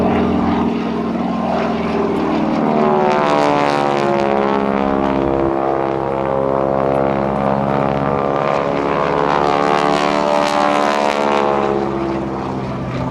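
A North American T-6 propeller airplane, restored to Korean War military configuration, flies past at an airshow, its loud growling radial engine droning steadily throughout with a sweeping pitch shift as it passes close by.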